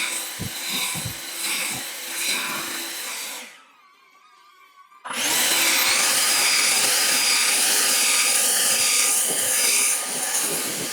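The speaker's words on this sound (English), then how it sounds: "grab your blower, and then you just want to blow and lift all the grass back up." A leaf blower lifts flattened synthetic grass with a loud, steady roaring whoosh. It starts with engine noise, drops briefly to a quieter high whine, then returns at full force and stays constant and close.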